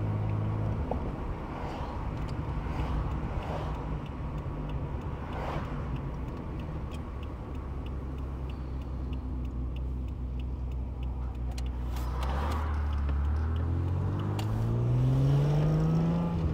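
A 1986 Alfa Romeo GTV6 sports car engine hums steadily while driving along a road, with a rising whine toward the end as it speeds up.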